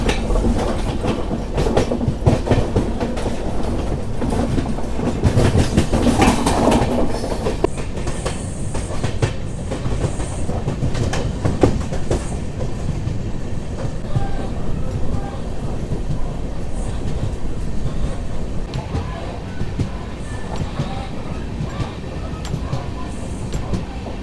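A passenger train runs on the Sairang to Bairabi line in Mizoram, heard from on board as a loud, steady rumble of wheels on rails with clickety-clack beats and occasional squeals throughout.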